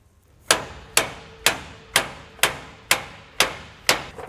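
Hammer driving a bolt into the shackle of a 4-leaf double-eye leaf spring on a 4,000-lb trailer axle: eight loud, evenly spaced metallic blows about half a second apart, each ringing briefly, with no talking.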